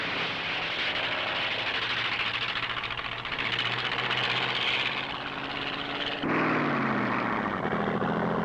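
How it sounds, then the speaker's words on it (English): A 1951 hot rod roadster races through the Bonneville speed trials on the salt flats, its engine a continuous loud drone that holds steady, then shifts sharply in pitch near the end as the car passes. "The driver, on leave from the Army, boots the car through on the two-way runs"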